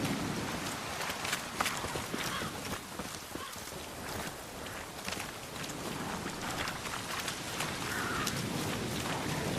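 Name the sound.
rain in the video game The Witcher 3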